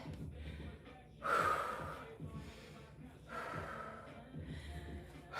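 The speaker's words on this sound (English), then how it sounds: "Deep breaths." Heavy, gasping breaths after a home leg workout with dumbbells, a few deep inhales and exhales in slow bursts, close and fairly soft.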